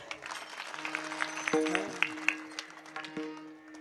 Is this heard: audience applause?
yes